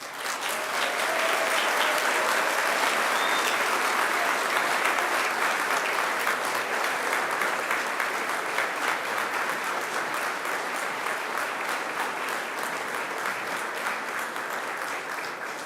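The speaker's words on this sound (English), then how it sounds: "Can I ask you to give them a round of applause?" Graduation ceremony audience applauding in a large hall, a dense, steady wash of clapping from many hands that holds loud for the full stretch and eases only slightly toward the end, with no talk over it.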